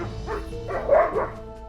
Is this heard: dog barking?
yes